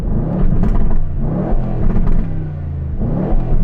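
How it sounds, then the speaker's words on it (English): An Aston Martin engine revs hard in loud, repeated surges with a deep, throaty rumble, close by and continuous throughout. "I've got all the revs here."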